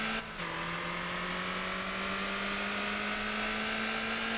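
A race car engine in Motor Town holds a steady, sustained high-pitched drone after a brief dip at the start, fairly faint and unbroken, with no talking over it.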